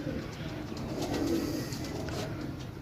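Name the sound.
pigeons cooing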